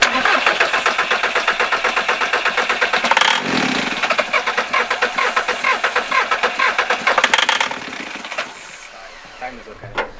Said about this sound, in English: After what turned out to be a dodgy fuel cut-off solenoid, we had life.